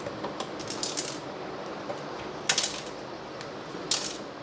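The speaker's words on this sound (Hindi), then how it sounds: "मतलब डेफिनेटली कोई स्क्रू है अंदर" A loose screw rattles inside a Crompton voltage stabilizer as the unit is moved, with faint scattered clicks and a few brief metallic rattling bursts, close and quiet.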